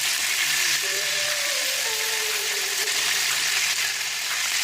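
Chicken frying in a pan for a chicken with tomato sauce dish, a steady, dense sizzle with soft crackle, close and continuous, with no talk in the clip.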